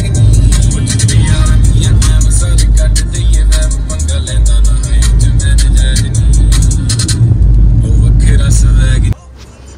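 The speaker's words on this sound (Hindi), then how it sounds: "चाचा ने इतनी तेज कार भगाई" Car travelling fast along a road in Uttarakhand, steady loud engine and road rumble with wind noise throughout, cutting off abruptly near the end; a person talks over it.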